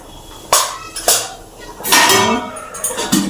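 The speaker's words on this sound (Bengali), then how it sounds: "ভালো করে নেড়ে মিশিয়ে নেবো আমি" Stirring and mixing a pot of curry with papaya, coriander leaves and garam masala, heard as a few loud metallic scrapes and clanks of a spoon against the pot, spaced out over a short stretch.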